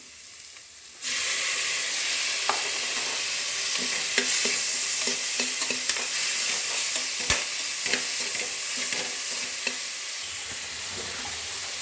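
Onion and tomato fry in a pan for a brinjal tomato curry, a loud steady sizzle close by, broken by repeated spoon scrapes and stirring clicks throughout.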